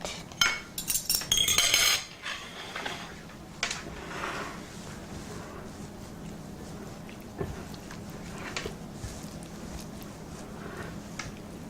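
Utensil mixing a beef appetizer in a bowl: a burst of bright metallic clinks and scrapes at the start, then quieter intermittent tapping and stirring noises over a faint background hum.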